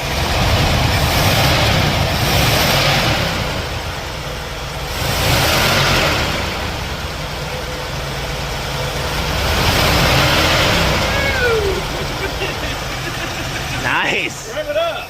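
A junkyard Ford Thunderbird engine runs with a rough, loud rumble that surges and falls in slow waves, while people talk nearby.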